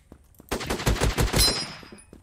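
Semi-automatic gunfire from the Krunker.io shooter game rattles off in a rapid burst of about a dozen sharp shots over roughly a second, loud and close, then stops.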